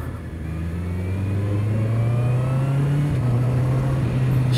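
A 2024 Honda CB650R motorcycle with E-Clutch accelerates hard up through the gears, its engine tone climbing steadily and loud with a brief dip at a gear change, no talk.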